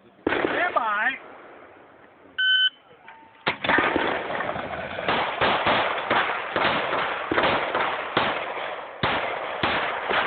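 Gunshots at a shooting range: sharp, loud reports in a rapid irregular string after a short pause, with a few beeps and voices beforehand.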